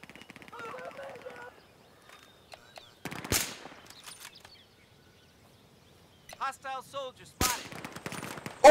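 Gunshots in Battlefield 4, a couple of sharp loud cracks standing out against quieter game ambience, with a voice talking between them.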